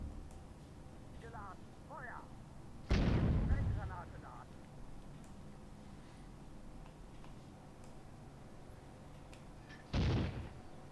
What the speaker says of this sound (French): ils sont en train d'envoyer de l'artillerie